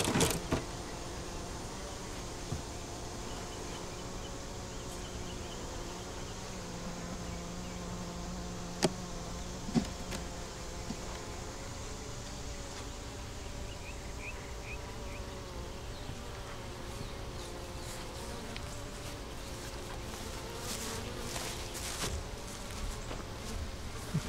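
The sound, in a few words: honey bees buzzing at the hive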